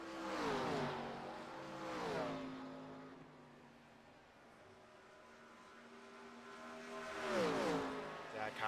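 Race car engines roaring past at Watkins Glen in a racing sim of a 1987 series, several cars revving and shifting in swelling passes that rise and fade, with a commentator talking over them.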